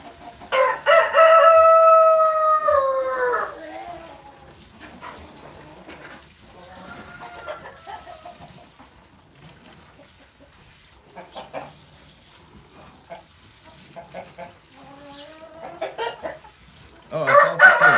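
Farm roosters crow loudly at the start and end, with scattered clucking and quieter calls in between, near and clear over a quiet background.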